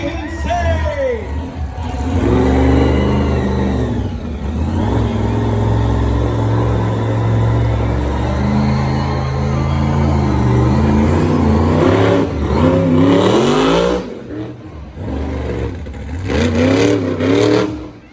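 A Temporarily Insane monster truck engine rumbles and revs at an arena event, rising and falling in long loud surges while an announcer talks over it on a public address system.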